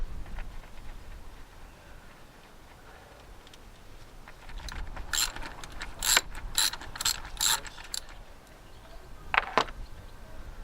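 A ratchet works close by on the bolts of a 2006 Ford Fusion 1.4 TDCI turbo, making several bursts of quick clicking with short pauses between them. Quieter workshop handling noise fills the background.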